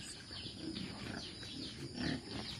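Pigs in a pen at a family house grunting at close range, a low rumbling snuffle with a louder swell near the end over steady background noise.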